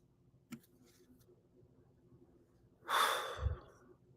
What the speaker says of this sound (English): Again, deep breath in.